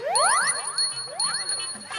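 A hand bell rung at a comedy stage performance, several bright metallic rings with rising chime tones and a sustained high ringing, loud and close, no voices.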